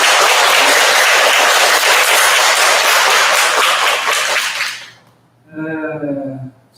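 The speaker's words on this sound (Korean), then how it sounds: "오늘 오신 모든 분들 감사의 박수 한번 부탁드립니다." Congregation at a Sunday Buddhist family service bursts into loud, sustained applause that fills the hall for nearly five seconds, then cuts off, followed by a short stretch of talking.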